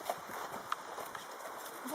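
A single pony at a riding club, a 23-year-old privately owned mare, walks with light, scattered hoof clip-clops heard close amid outdoor ambience and faint background voices.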